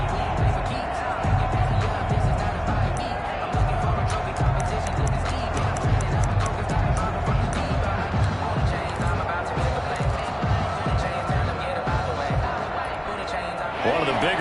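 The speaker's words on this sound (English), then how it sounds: "The crowd getting into it as we come up on a big 3rd down" Football stadium crowd roaring steadily ahead of a big third down, a dense continuous wall of noise with occasional thuds, under a commentator's voice.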